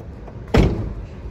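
The engine hood of a 2021 IZ-series light truck being opened: a single dull mechanical clunk with a brief rattle and fading resonance, near and fairly loud.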